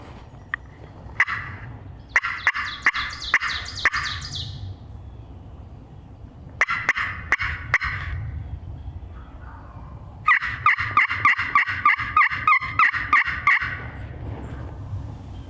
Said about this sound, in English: They're kind of gobbling on their own just every so often.